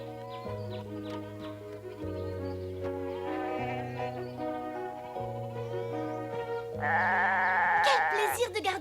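Goats bleat in a mountain pasture in a cartoon, sustained tonal bleats layered over background music.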